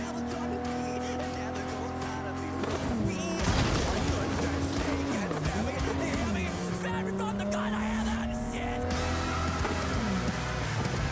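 Car in Cyberpunk 2077 driving with a steady engine drone, then a burst of tires skidding and squealing with the pitch sliding up and down, followed by continued revving; loud and close throughout, with no talk over it.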